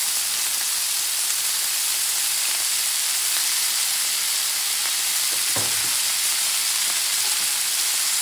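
Butter and a bison steak sizzle steadily in a cast iron pan, with a dense, constant frying hiss close up and a brief low knock partway through.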